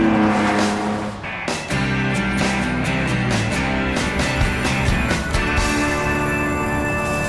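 Loud Lamborghini Diablo engine revving hard through gear changes, with sharp shifts and a roaring exhaust that rises and drops repeatedly.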